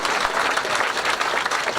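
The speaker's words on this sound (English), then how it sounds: "give yourselves a round of applause" An audience at a congressional campaign kickoff event at the Radnor Hotel bursts into loud, close, continuous applause, dense clapping filling the whole brief moment.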